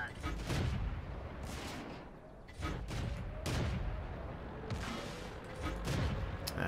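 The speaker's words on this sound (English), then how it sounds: "I'm just firing shots just to fire shots at this point" Tank cannons fire in World of Tanks as several sharp, loud shots and booms at irregular intervals over rumbling engine and battle noise, with a voice talking in the background.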